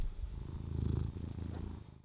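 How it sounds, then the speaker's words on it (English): A cat purrs close up in a short, low, rhythmic rumble that holds steady for about two seconds before fading out. "There's some purrs for you, Savvy."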